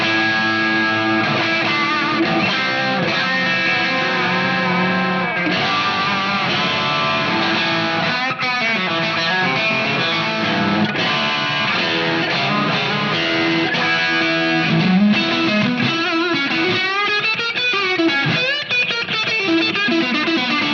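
An overdriven electric guitar plays crunchy, distorted chords and riffs through a Marshall JCM 800 amp with a Klon-style overdrive pedal, loud and continuous with sustained notes and some bends.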